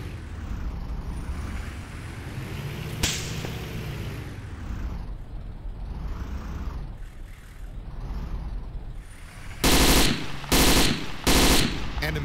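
Automatic machine-gun fire in the Arma 2 military shooter erupts in three loud, sharp bursts near the end, after a stretch of rumbling vehicle and ambient battlefield noise with a single earlier shot.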